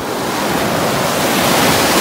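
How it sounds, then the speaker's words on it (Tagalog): Steady roar of ocean surf washing in, broad and continuous with a breezy rush, no voices. "kinakalaban ni Aman sang alon"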